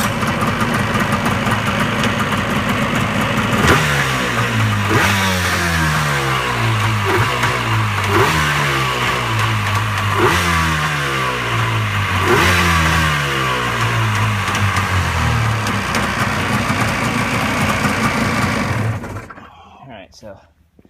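A 1991 Yamaha WaveRunner engine runs loudly and close on a cold day, revving up and down in repeated rising and falling sweeps over a steady rough idle before cutting off abruptly near the end.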